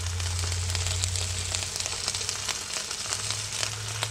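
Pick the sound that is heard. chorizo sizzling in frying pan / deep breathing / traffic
chorizo sizzling in frying pan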